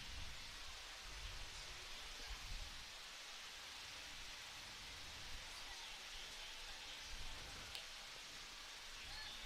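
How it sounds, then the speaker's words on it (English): Light rain falls steadily on an outdoor softball field after a passing storm, a soft even hiss with no distinct drops, faint and continuous throughout. "Looks like still some light rain coming down."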